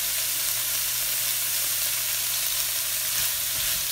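Bok choy cooks in a hot pan alongside shrimp for pad thai, producing a dense, even hiss of frying that holds steadily throughout, close and fairly loud, with no voices.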